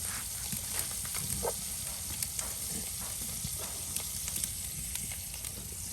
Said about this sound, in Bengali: আর এদিকেও কিন্তু মাছ ভাজি করা হচ্ছে।